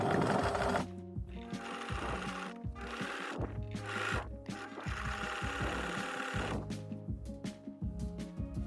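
A sewing machine stitches a standing collar onto a shirt, its close, loud mechanical whirring coming in several short runs separated by brief pauses.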